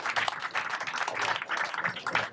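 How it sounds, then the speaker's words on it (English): An audience at a leaders reception claps in a dense, steady burst of applause, fairly close and lively, with no talking over it. "Let's give him another round of applause, please."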